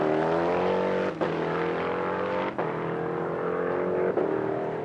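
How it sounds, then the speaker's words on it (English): A V8 race car roars steadily through Le Mans qualifying at Lone Star, its loud sustained engine note broken by three sharp, quick dips as gears crack through paddle-shift flat shifts at roughly even intervals. "The gears just cracking in there on that V8 with the flat shift, of course"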